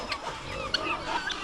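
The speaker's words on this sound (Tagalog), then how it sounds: "May mga manok pa tayo doon." Free-range backyard chickens forage for food and worms, giving soft, close clucks and brief chirps over a short stretch.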